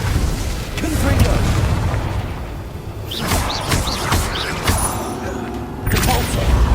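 Blasting-spell explosions in a video game, a continuous roar of booming bursts and crackling debris, loud and close, with voices talking and shouting over it.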